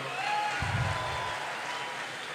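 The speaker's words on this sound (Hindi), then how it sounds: "जनाब शाह साहब के लिए बहुत भरपूर तालियां जनाब" An audience at a literature festival in Quetta applauds, a continuous wash of clapping that runs evenly for the whole moment at moderate loudness, with a brief low thump early on.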